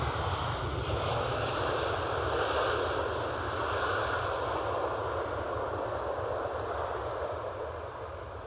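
A WestJet airliner at Edinburgh gives a broad, steady engine roar that stays loud and close before easing slightly toward the end.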